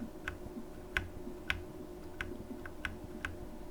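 Keyboard clicks stepping through video footage frame by frame, about eight sharp, fairly faint ticks spaced irregularly over a steady low background hum, with no talk.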